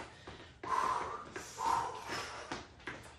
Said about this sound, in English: You can hear us breathe.